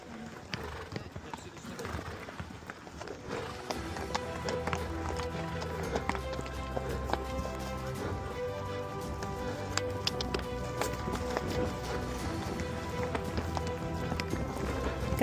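Several horses canter on a racecourse, their hoofbeats forming a steady, dense, rumbling rhythm. The sound stays at an even, moderate level throughout and is heard without any talk.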